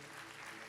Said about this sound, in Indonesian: Berikan tepuk tangan buat Ines.